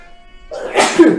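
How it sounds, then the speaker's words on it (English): A single close, loud human sneeze bursts out at the end of a quiet stretch, sharp and breathy with a short trailing exhale. "Bless you."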